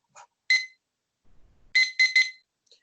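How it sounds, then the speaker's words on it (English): Debate timer being set and going off: a few scattered short electronic beeps, then a quick run of three loud, bright beeps close together, clear and near in an otherwise quiet room. "I will set my timer to 8 minutes."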